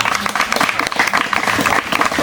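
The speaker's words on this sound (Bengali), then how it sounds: "জোরদার তালিয়া" A crowd at a para-commando academy claps loudly and continuously, a thick and even wall of applause with no pauses.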